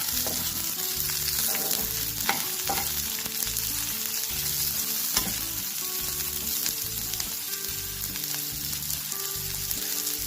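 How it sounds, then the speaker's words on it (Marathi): Ingredients for methi matar malai being sautéed in a pan, a loud, steady sizzle with rhythmic stirring strokes and occasional utensil clinks. "तर आता याला छान परतवून घेऊ."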